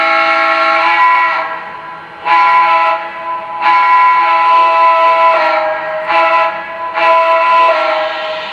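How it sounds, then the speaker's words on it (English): A Lionel Legacy Blue Comet 4-6-2 Pacific model train sounds its whistle in four separate, loud chime-like blasts of about a second or more each, with short gaps between them. "so I'm going to go ahead and blow the whistle a few times."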